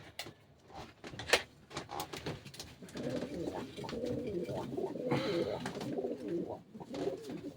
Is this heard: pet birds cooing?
yes